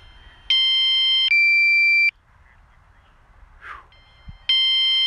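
Low battery warning from a DJI Mavic Air drone: bursts of loud, steady electronic beeping, two long tones back to back, a pause with faint background noise, then the beeping starts again.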